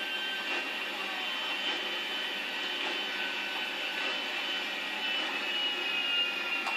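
A steady jet-engine roar drones on without pause, broad and hissing, like an aircraft flying overhead in GTA 5; no voices are heard.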